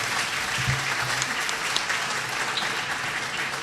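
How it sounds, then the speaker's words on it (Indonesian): An audience at an Islamic boarding school welcome event for a retired army lieutenant general claps in steady, dense applause that holds throughout without a break, a broad wash of many hands filling the hall. "Tepuk tangan sekali lagi untuk beliau."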